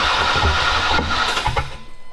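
A scrap yard Chevy engine cranks and catches after a fuel pump relay fault, a loud rough churning that sputters into uneven firing and fades out within a couple of seconds.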